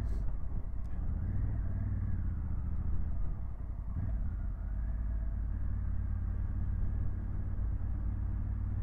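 A Honda CRF1100L Africa Twin motorcycle rides slowly around an island road, its engine giving a steady low rumble with mild wind noise, close and continuous throughout.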